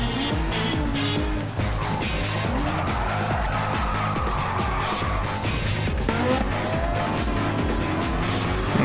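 A Genesis race car spins out mid-corner, its tires squealing in long skids over the loud, continuous roar of racing engines close by.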